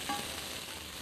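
Onions sauté in a pan, sending up a soft steady hiss of sizzling that stays even and close for about a second.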